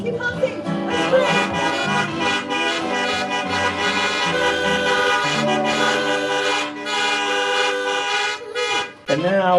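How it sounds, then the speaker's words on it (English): Car horns honk together in a drawn-out, overlapping chorus of tones at a drive-by celebration for a Kabbalat Shabbat service, sustained and loud for several seconds before breaking off near the end. "Keep going. Keep honking."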